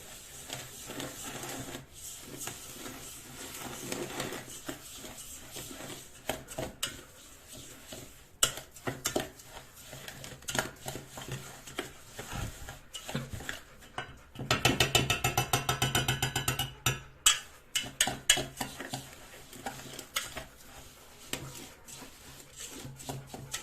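Soaked millet seeds are stirred and mixed by hand in a container while being prepared as food for lovebirds. The sound is a busy, gritty rattling and scraping, with a louder burst of clattering near the middle.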